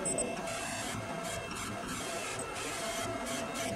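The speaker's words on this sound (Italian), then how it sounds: "la stampante dopo aver lavorato sul singolo dolcetto attende il prelevamento e con la freccia ridò il comando di stampa" A Primera Eddie edible-ink printer runs steadily while printing onto sweets, giving a continuous mechanical whir with periodic carriage passes and bursts of motor noise, close and fairly quiet, with no talking.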